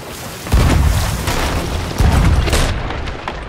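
Cannon fire from a ship in the pirate game Sea of Thieves: two heavy, booming blasts about a second and a half apart, each with a deep rumbling tail, loud and close.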